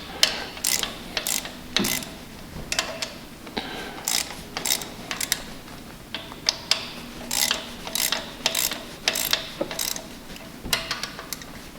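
Ratchet and socket tightening bolts on an engine, with many close, quick clicking strokes in uneven bursts and short pauses, loud and alone.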